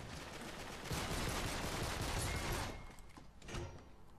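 Rapid video game gunfire in a dense, continuous fusillade of automatic shots, fairly quiet and steady for a few seconds before thinning into a couple of separate bursts.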